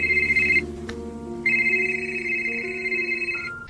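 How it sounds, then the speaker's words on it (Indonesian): A telephone bell rings in short bursts, a brief ring, a pause, then a longer ring, loud and close over a low background hum, in a tense scene from a psychopath thriller film. "terdengar suara bel."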